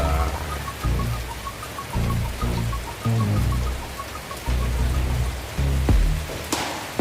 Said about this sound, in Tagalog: sa maulang umaga